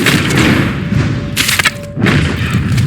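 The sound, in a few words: bow arrow shot hitting an animal in Red Dead Redemption 2 (video game)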